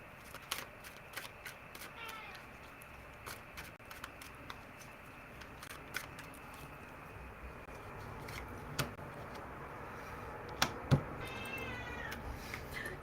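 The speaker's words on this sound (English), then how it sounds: "Kitty's always crying." Domestic cat meowing and crying indoors, repeated short calls scattered through the stretch over steady room noise, with a few sharper clicks and rustles near the end.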